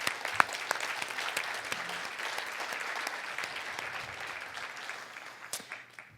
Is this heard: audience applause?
yes